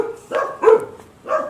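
Dogs bark in three short, separate woofs, moderately loud and fairly close, with brief gaps between them and no talking.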